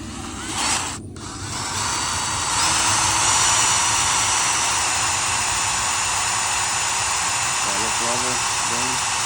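Power drill boring through a trailer tongue jack during a repair, a loud sustained whirring grind that builds after a brief start and runs steadily, with a few faint voice fragments near the end.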